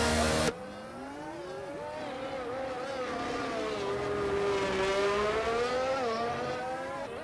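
McLaren race car in the F1 22 video game at Abu Dhabi pulling out, engine note holding a steady rising and falling whine with gear-shift steps, loud and close after a brief louder burst at the start, no talk.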